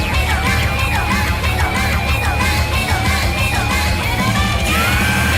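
A loud, sustained scream rises over a song at a live concert, with dense heavy-metal band noise and crowd roar underneath throughout.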